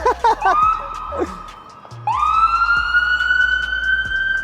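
A loud, steady ambulance siren wail close by on a Toronto street, briefly dipping and then rising again to hold a high, sustained tone, with a few brief voices at the start.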